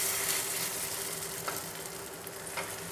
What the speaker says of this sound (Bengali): তেল গরম হয়ে গেছে এবার আমি দিয়ে দিলাম